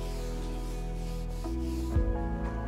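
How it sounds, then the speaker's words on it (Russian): Sanding a lacquered pressed-cardboard, papier-mâché-like panel being prepared for priming: a continuous close rubbing scrape over a steady humming background, with a brief louder pass near the end. "шлифовка — это одна из основных задач, которая стоит передо мной"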